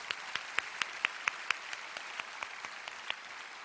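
A congregation at a church prayer service claps in an even, steady beat, the sharp claps faint and distant.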